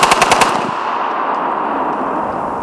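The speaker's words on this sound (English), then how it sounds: "The FNC should have a slower fire rate than the M16, making it a little bit more controllable." FN FNC and M16 rifles fire a fast automatic burst of loud, closely spaced shots, then a long rolling echo fades out across an open range.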